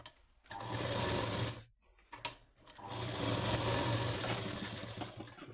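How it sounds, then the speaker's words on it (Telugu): A sewing machine stitches around the lining of a boat-neck blouse, giving two close, steady runs of loud mechanical whirring separated by a short pause. "ఇలా స్టిచ్చింగ్ చేసుకున్నాక లైనింగ్ చుట్టూ ఒక స్టిచ్ వేసుకోవాలి"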